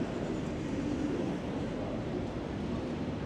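A double-decker Metronom regional train pulls out of a station on the Hamburg–Bremen–Hannover line, a steady low rumble and rushing noise heard from inside, continuous and even, with no talking.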